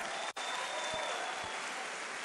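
An audience at a motivational talk applauds, a sustained even roar of many hands clapping together, steady and fairly distant, with a brief dropout near the start.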